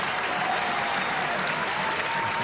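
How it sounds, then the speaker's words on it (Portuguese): Stadium crowd at Morumbi applauding São Paulo fans during a Paulistão match against Ituano, a steady wash of clapping with crowd noise throughout, no pauses. "Palmas para os torcedores do São Paulo."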